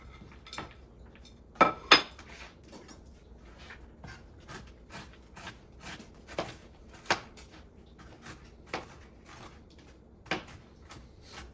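A knife chops toasted pecans on a cutting board in a home kitchen, with quiet, irregular taps and clacks spaced across a calm background.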